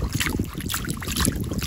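A large cat's eye sea snail is rinsed in seawater on a beach, with steady splashing and water swishing close to the microphone amid wind noise.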